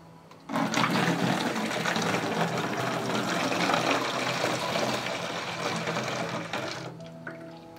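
A mixture is poured into a 5-litre bottle, making a steady rushing, gurgling stream of liquid that starts abruptly, holds for about six seconds and then stops, with no one talking.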